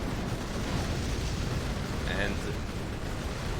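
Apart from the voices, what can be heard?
Sunstorm fire support explosions in Rise of the Reds (video game)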